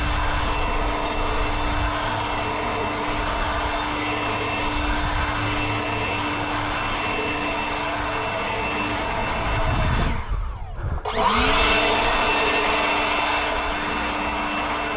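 A leaf blower clears spilled organic fertilizer off sidewalks and common areas back onto the lawn, a steady loud roaring whine held close by, briefly dipping and then returning at full strength.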